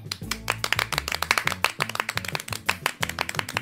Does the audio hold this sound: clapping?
yes